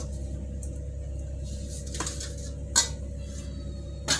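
A pot of simmering Tamil-style fish curry, with oil separating, takes in pieces of sankara fish, heard as a few soft clinks and metallic scrapes against the pot over a steady low background hum.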